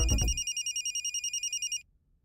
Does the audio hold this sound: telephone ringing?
yes